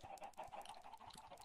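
Blocky Minecraft chickens cluck in soft, quick bursts within a faction-wars game, quiet and slightly distant.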